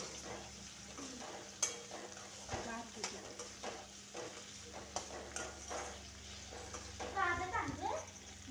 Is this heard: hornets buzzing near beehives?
no